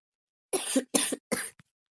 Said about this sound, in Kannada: ಜಾಸ್ತಿ ಕೆಮ್ಮು ಬರ್ತಾ ಇದೆ